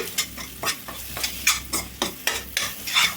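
Masala being stirred and mixed in a pan while making stuffed brinjal curry, with repeated scraping strokes and a light sizzle in a steady rhythm, close and moderately loud, no talking.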